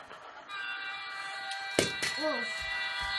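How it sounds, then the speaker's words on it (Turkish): A steady mechanical rumble with tonal whine from a high-speed train in a video game, interrupted by a couple of thuds and a brief voice sliding in pitch. "Bu hızlı tren bakın."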